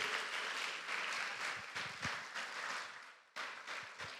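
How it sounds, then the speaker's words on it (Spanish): A church congregation claps together in sustained, dense applause with some rhythmic beats, heard from within the room at a modest level, briefly dipping near the end before picking back up. "denle un fuerte aplauso al Señor"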